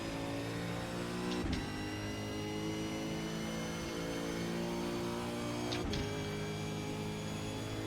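Racing-game V8 Supercar engine at Bathurst, a steady high-revving drone with dense harmonics, briefly dipping twice as it bounces off the rev limiter or shifts, loud and continuous with no talking.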